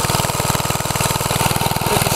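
A 1949 Bready walk-behind tractor engine runs close by with a Brinly disc hitched on, giving a steady, rapid low putt-putt that stays even throughout with no talking.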